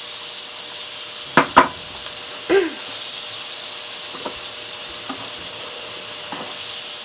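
A grilled cheese sandwich fries in butter in a pan, giving off a continuous soft sizzle with a few sharp clicks and clatters of a utensil against the pan.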